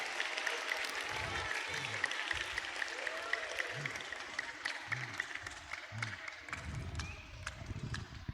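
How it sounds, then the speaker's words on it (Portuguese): An audience applauds a group of schoolteachers at a school event, the clapping dense and steady, sustained throughout at moderate volume. "Um aplauso para todas de uma vez."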